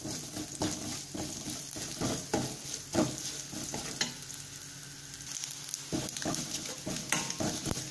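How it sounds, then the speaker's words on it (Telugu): Ajwain (carom seeds) frying in a pan for ajwain rice, a continuous close sizzle with repeated scraping stirs and light clinks of a utensil against the pan. "ఇప్పుడు ఇందులో ఈ వాము కూడా వేసి వేయించుకుందాం."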